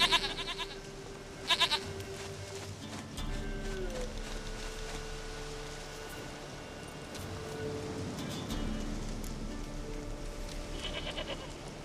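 Goat bleating in The Witcher 3: Wild Hunt, a few short bleats standing out near the start over a steady game soundscape with music, ambient drones and possible rain.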